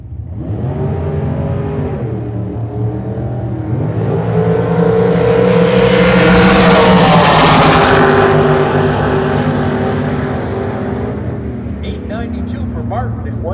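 Super Comp drag cars, including a 2001 Worthy and a 2016 Race Tech, roar loudly off the line and rise in a long building engine howl down the strip, peaking and then fading, with an announcer talking over it.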